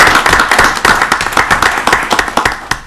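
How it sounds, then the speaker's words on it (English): Audience at a town council meeting claps for a council member, distinct individual claps forming a lively, close, uneven rhythm that gradually thins and tapers toward the end. "Give her a round of applause."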